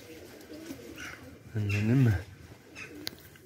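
Pigeons cooing nearby in a real outdoor setting, a soft rising-and-falling coo swelling up once in the middle, with a person speaking briefly over quiet background noise.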